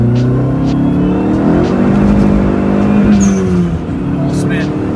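A Dodge SRT-4 accelerating hard in second gear on bald tires over slightly wet ground, its engine droning loud and close with rising pitch throughout, and a brief squeal near the end.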